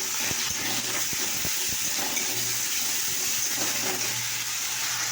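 Water from rinsing a bowl poured into a cooking pot of spiced onion, ginger and garlic, a steady rushing splash and hiss over a low hum, with a few knocks of the bowl against the pot, close by.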